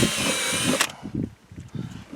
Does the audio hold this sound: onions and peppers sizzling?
no